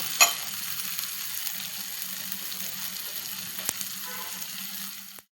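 Kadhi tempering sizzles in a pan, a steady broadband frying hiss with one sharp clink near the start and a brief tap midway, continuing evenly before cutting off.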